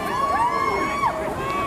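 A street protest crowd in Seattle cheers and yells in a brief, somewhat distant burst, one rising and falling shout standing out above the general crowd noise.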